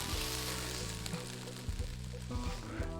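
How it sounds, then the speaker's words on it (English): Bulgur wheat is tipped into a hot pan of sizzling onions for a veggie burger, giving a steady frying hiss over a sustained tonal background for about three seconds. "so now we're ready to add our bulgur wheat"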